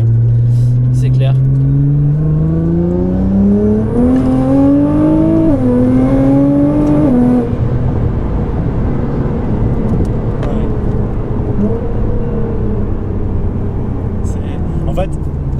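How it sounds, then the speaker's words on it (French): A 700 hp Stage 3+ Nissan GT-R accelerates hard from inside, its engine note climbing through the gears with a shift, a loud sustained roar and road rumble, with people talking over it. "quand tu commences à accélérer, tu te dis ok là ça pousse déjà et ça monte toujours en fait"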